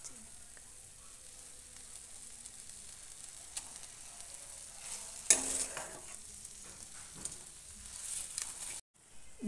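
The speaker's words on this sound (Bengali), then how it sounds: "দইটা দিয়ে ভালো করে নেড়ে নেবেন।" Spice paste and yogurt being stirred in a frying pan for Kashmiri alur dom, a low sizzle with scraping spoon strokes throughout, one louder clatter midway and a brief drop-out near the end.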